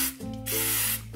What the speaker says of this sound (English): I'm going to get my spray and make waffles.